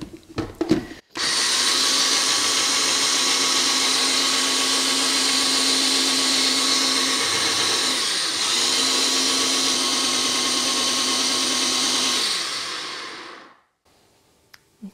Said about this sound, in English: I mean, you can do this in a blender or even a food processor, but I find these sort of little NutriBullet things really super helpful.